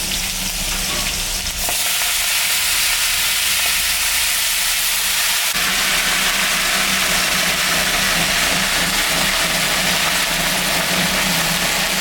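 Water spinach sizzles loudly in a hot pan with green chillies and nigella seeds. A burst of frying starts as the greens go in and holds as a steady hiss, with brief stirring scrapes and no speech.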